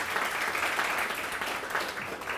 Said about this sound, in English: That's a big round of applause for Enthusiast Gaming.